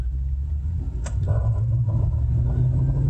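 A Chevrolet Avalanche with an ABS problem pulls out onto the street and accelerates lightly, its engine a steady low rumble close by, with one brief higher-pitched squeak about a second in.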